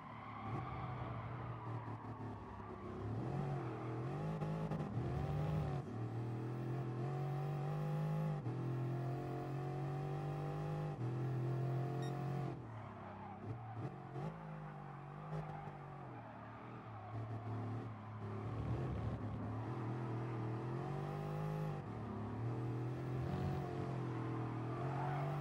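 Race car engines in Gran Turismo Sport drone and rise through repeated revving sweeps, a sustained loud harmonic whine that dips and climbs as gears shift, with no talking.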